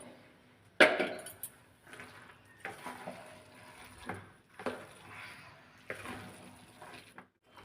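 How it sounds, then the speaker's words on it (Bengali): Chicken khichuri with dal, potato and rice being stirred in a pot, giving scattered scraping and clinking spoon strokes against the vessel with soft sizzling between, close and moderately loud. "আমি ভালোভাবে মিশিয়ে নিচ্ছি"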